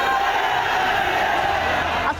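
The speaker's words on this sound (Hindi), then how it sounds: "इसीलिए भाईजान को तालियां भी खूब मिल रही हैं" A rally crowd roaring and cheering for Asaduddin Owaisi, a dense, sustained wash of many voices close and loud for a couple of seconds before cutting off.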